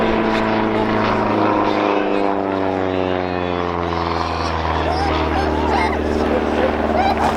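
A Scottish Aviation Bulldog propeller aircraft passes at an air show with a loud, continuous engine drone that shifts in pitch as it flies by, and a commentator talks over it.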